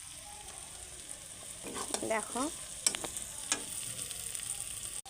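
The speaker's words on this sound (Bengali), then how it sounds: "আমি এখানে পেঁয়াজ আর টমেটো একসাথে একটু ভেজে নিই লাল লাল করে।" Onion and tomato fry together in a pan with a soft, continuous sizzle. A few brief squeaky scraping strokes come near the middle, and a single word is spoken.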